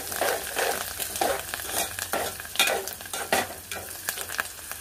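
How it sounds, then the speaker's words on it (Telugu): Tempering with curry leaves sizzling in a pan for dosakaya papu, with rhythmic spoon stirs scraping every second or so over the constant frying hiss, near and without talk. "తాలింపు కొంచెం ఫ్రై అవ్వాలండి"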